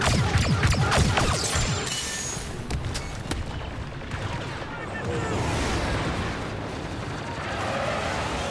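Rapid blaster fire crackles in Star Wars Battlefront, loud bursts of shots over a battle din with booming impacts, while a player talks over the action.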